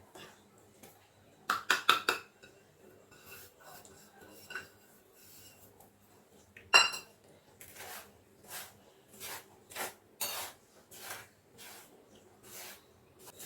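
Semolina and sugar being mixed on a plate for rava laddu, heard as scattered scraping and clinking of a utensil against the plate, a quick burst early and then a series of soft rhythmic strokes, close and fairly quiet.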